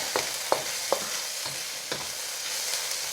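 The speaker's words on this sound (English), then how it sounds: "So now let's add our garlic. And we're just going to cook and stir the garlic" Garlic stirred and cooked in a hot pan for a chicken and vegetable stir-fry: a utensil scrapes and knocks against the pan in a handful of sharp, irregular clicks over a soft, steady sizzle.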